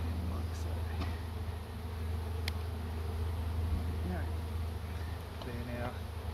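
Honey bees from a tree hive relocated into a hive box buzzing in a continuous low hum, with occasional handling clicks and rustles nearby.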